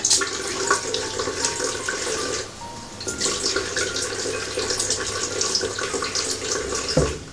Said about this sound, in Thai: ก่อนอื่นก็ทำให้หน้าเปียกก่อนนะ